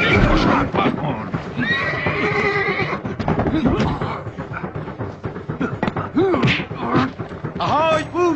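Horses in a crowded old-world street scene whinny loudly several times, shrill rising calls mixed with hoof clatter and thuds, while people talk and shout over them.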